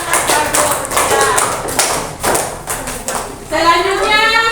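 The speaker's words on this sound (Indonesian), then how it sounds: "tepuk tangan untuk kelompok 1" Classroom clapping as a group of pupils is applauded, a dense burst of many hands tapping in quick irregular rhythm, fairly loud and close, with children's voices rising near the end.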